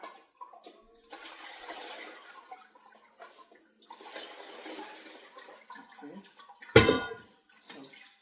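Water runs into a container for washing pineapple peels, a steady rushing pour in two long stretches, followed by a sharp splash near the end and a few softer trickles.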